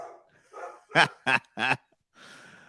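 Three sharp dog barks in quick succession, preceded and followed by softer huffing and breathy sounds.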